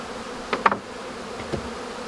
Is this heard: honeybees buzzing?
yes